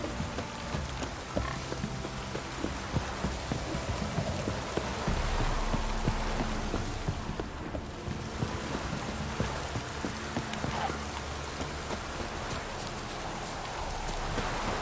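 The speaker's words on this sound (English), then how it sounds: "This downpour's a bastard, it is. It's ploughing, pouring again." Heavy rain pours steadily in the video game The Witcher 3, a dense hiss of drops spread across the whole clip with faint low rumbles beneath.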